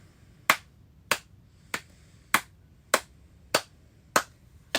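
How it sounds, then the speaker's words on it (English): A steady beat of single claps, about eight sharp, evenly spaced hand claps standing out against near silence, as children clap along to a song. "Well, let's clap."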